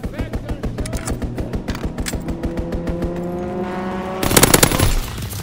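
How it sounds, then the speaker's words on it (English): Rapid machine-gun fire from an enemy strafing run rattles steadily in a Domination match on the Gibraltar map of a shooter video game, mixed with engine-like roar and a louder burst near the end. "Enemy strafing run inbound"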